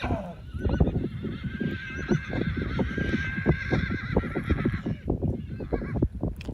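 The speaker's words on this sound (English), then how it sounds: "And then they started making these loud whinnies and starts talking to each other." A herd of wild mustangs lets out repeated loud, shrill whinnies, several overlapping, while hooves clop and shuffle throughout in a busy, close outdoor scene.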